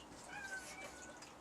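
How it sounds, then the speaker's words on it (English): A cat gives a brief, thin meow, faint and somewhat distant against a quiet room background. "Do you hear the cat?"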